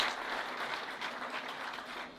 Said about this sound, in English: I think this would be good if we could just give a little round of applause to thank them for all their effort.